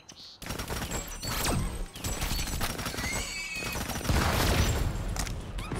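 Explosion in the PS4 video game Tamarin, a dense burst of blasts and crashing debris layered over busy game sound effects, loud and sustained for several seconds.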